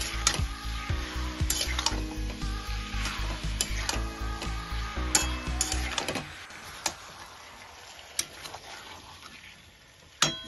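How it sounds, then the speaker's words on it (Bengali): Taro stolons fry in a dry pan with no water, a steady crackling sizzle broken by rhythmic scraping stirs for about six seconds, then quieter sizzling with occasional clinks of the utensil. "এবারে এটাকে আবার একটু ভাজা ভাজা করে নেব, এর মধ্যে কোনো জল দেব না।"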